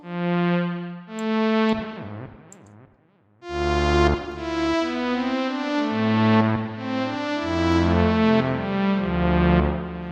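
A bright Baby Audio BA-1 synthesizer plays sustained chords and melody notes, washed in lush reverb and echoing delay, with a brief quiet gap before it swells back in.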